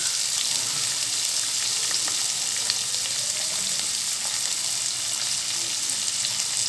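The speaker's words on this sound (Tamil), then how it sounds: "சேர்த்துட்டு இது கொஞ்சம் நேரம் வதக்கி கொடுக்கலாம்" Chopped big onions sauté in a pan for homemade pasta masala, giving a steady, even sizzle that runs unbroken throughout with no voices.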